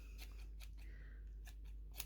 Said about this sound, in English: tail, I shall trim it quite severely